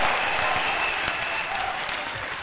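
A church congregation claps steadily in a sustained burst of applause, dense and fairly loud, filling the room without any clear voices standing out.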